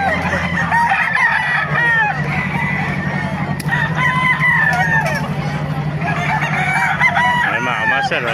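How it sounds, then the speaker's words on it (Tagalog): Several roosters crow over one another nonstop at the Bocaue pet market, loud and close, with clucking and a busy crowd murmur underneath. "Maraming manok kayo dito sa Bukawi oh."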